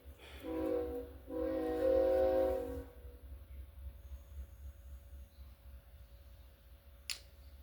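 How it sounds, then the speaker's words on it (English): A passing train sounds its horn in two loud, sustained blasts, the second one longer, before fading to a low rumble with a faint tone lingering over it. "That train, the horn from that train has never really been that aggressive."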